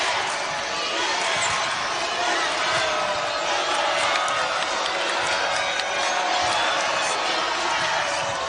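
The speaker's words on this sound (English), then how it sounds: "You can hear the crowd getting involved now." A basketball arena crowd roars steadily throughout an Alabama vs Auburn SEC game, a dense, continuous wash of cheering and noise with no clear breaks.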